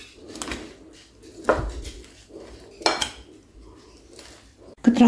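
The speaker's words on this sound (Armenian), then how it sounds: "Մի փոքր սոուսը ավելացնելուց հետո խառնում եմ եւ առանձին ամանի մեջ հավաքելու ենք արդեն մեր աղցանը" Utensils scrape and clink against a bowl while salad is tossed with sauce, a few sharp knocks and clatters spaced out between softer stirring sounds, close and fairly loud.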